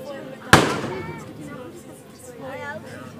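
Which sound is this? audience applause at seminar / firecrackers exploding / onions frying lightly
firecrackers exploding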